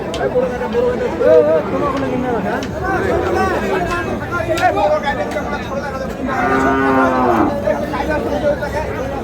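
Holstein Friesian bulls low at a livestock market in Ambari, repeated drawn-out moos sounding close over a crowd's chatter and people talking.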